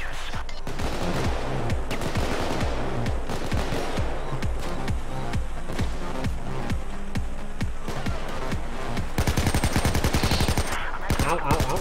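Rapid bursts of automatic gunfire from a gun in the game Payday 2, sustained rattling volleys with dense repeated shots that grow sharper and faster near the end, with faint game sounds underneath.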